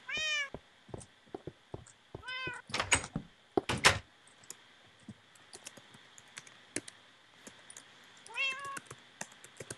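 Cats meowing in the Minecraft video game Skyblock, several short rising meows in bursts over steady keyboard typing and clicks, with a few louder knocks midway.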